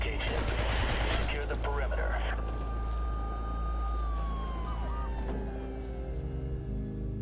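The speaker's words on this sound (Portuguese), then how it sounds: "Tudo que se pode ouvir são barulhos de tiros, pessoas gritando de medo e correndo," Gunfire crackles in dense bursts from a video game in black-and-white style, with people screaming, while police sirens wail and sweep in pitch throughout.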